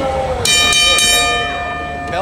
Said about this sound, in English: Bell sounds, we're underway here.